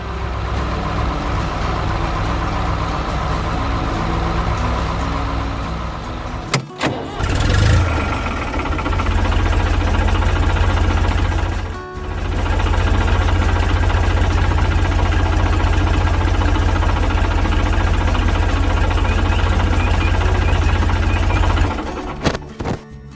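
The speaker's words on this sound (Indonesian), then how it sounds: "tiba-tiba terdengar suara mesin yang menari-nari" A machine engine in an animated harvest scene with a grape conveyor, running loud and close with a steady droning hum, broken by a sharp burst and a brief dip before resuming and cutting off near the end.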